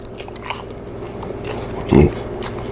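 A single crisp bite into an oven-baked Calypso-rubbed chicken wing, a short crunchy burst near the end over quiet room background, with no dipping sauce.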